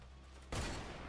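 After a quiet moment, a sudden burst of rapid gunfire erupts and continues loudly to the end, with the punchy, compressed sound of game audio, from the Wick Bounty mode.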